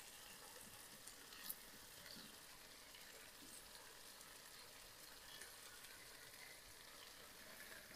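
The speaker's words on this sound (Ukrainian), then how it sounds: "Все ретельно перемішуємо." Onions and tomato being stirred together in a pan for a stewed onion dish: a steady, faint sizzle and soft scraping texture that continues evenly throughout, with one small clink near the middle.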